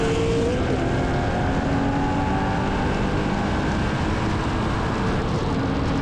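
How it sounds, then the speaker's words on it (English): A modified Ford Mustang with a 50% horsepower increase accelerates hard in a race against a Porsche 911, a loud, unbroken engine roar that holds steady throughout. "it takes a second for my Mustang to get to its power band, but once it does, it pulls at a pretty decent clip"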